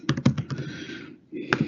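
Quick bursts of computer keyboard typing, close and fairly quiet, with a clattering run of keystrokes, a short pause, then a few more taps.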